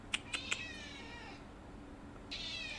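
A house cat meows indoors: three short sharp cries close together, then a longer drawn-out meow, and after a brief pause another rising call, fairly faint with no talking.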